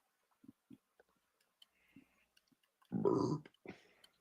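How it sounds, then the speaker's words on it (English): A single loud burp near the end of a quiet stretch, preceded by faint clicks and small mouth noises, close and dry, indoors during a podcast. "Burp."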